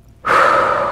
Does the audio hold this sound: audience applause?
no